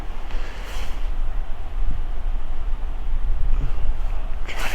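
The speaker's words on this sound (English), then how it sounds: "Hopefully the sun warms things up and this wind dies down a bit" Strong wind gusts across the microphone during a cold outdoor deer hunt on a farm, producing a steady, loud roaring rumble with no other sounds.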